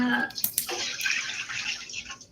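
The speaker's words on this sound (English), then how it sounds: "I have to fill the dog bowls and the animal bowls for water" Tap water pours into dog and other pet water bowls indoors, a steady close gush with a few splashy clinks at the start, then tapering off.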